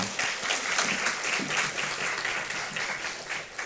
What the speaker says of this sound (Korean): 우리 하나님께 영광의 박수 한번 하겠습니다